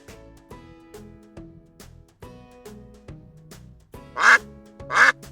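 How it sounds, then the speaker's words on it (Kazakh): Domestic duck quacking, two loud, close quacks near the end, heard after several seconds of soft background music. "Үйрек"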